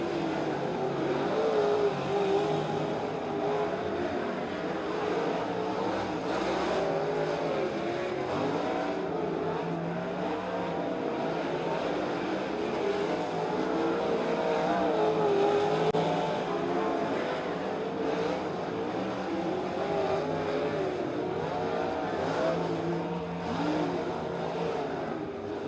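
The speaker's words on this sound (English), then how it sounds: "we do a quick hot lap here, get everyone lined up." Sprint cars run a hot lap on the Stockton dirt track ahead of a heat race, their engines roaring steadily for the whole stretch, loud and near, with the pitch rising and falling as the cars pass.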